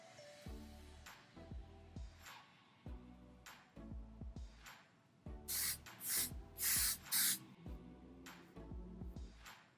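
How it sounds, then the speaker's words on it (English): Short bursts of hairspray are aimed at the hairline to lay down baby hairs while installing a lace wig. A run of separate hissing sprays sounds close and loud. Quieter brushing or handling noises fall between the bursts, and nobody speaks. "I'm going to be using hairspray and a little itty bitty brush to get all of my baby hairs out of my face."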